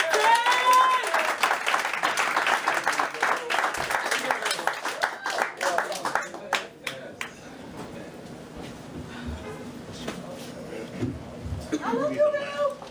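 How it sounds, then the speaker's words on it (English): An audience at a spoken-word performance event claps loudly for a performer, dense clapping that thins and fades after several seconds. Scattered voices and chatter follow, then a voice returns near the end. "please put your hands together for Untamed Tally"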